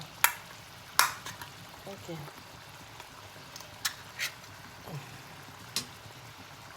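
Sauce simmers and stews in a pan with a low, steady sizzle, broken by a few sharp clinks and taps of a utensil against the pan at uneven intervals.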